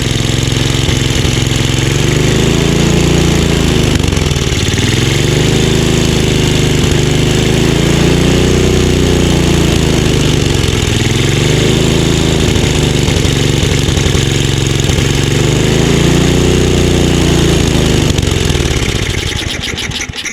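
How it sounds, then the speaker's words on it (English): A Tecumseh 5HP engine on a Simplicity 24-inch two-stage snowblower with a faulty carburetor runs loudly off choke, its revs surging and sagging in slow waves before it dies at the end. "The minute I tried to take it off of choke, it wants to stall"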